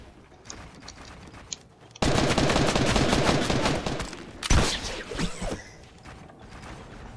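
Gunfire in the video game Fortnite, an abrupt loud burst of rapid automatic shots after a quieter stretch of clicks, then mechanical reload clatter and scattered single shots, close and without talk.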